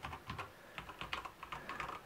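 Cherry MX Brown mechanical switches on a Cooler Master MasterKeys keyboard are typed on in a quick, uneven run of soft, dull clicks, quiet and close, with no voices.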